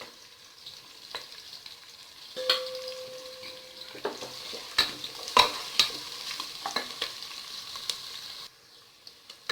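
Onions and green chilies sauté in a pan for country chicken biryani, with a soft sizzle under rhythmic spatula scrapes and clinks that grow busier midway before fading near the end.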